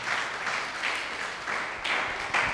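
Congregation applause at a church service, a dense wash of many hands clapping loudly and steadily throughout, with slight swells in intensity and no talk over it.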